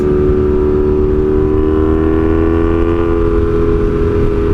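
Honda Magna 750 motorcycle with a straight pipe exhaust, running loud and close with a steady, continuous engine drone and no voices.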